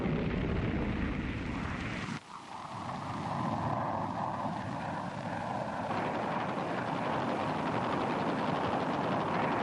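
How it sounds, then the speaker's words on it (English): Jet fighter bombers roar overhead in a wartime attack, a loud sustained broadband rush with a sharp shift partway through as the aircraft pass, continuous and without speech. "over the North Vietnamese rear areas, fighter bombers roamed with orders to pounce on any movement"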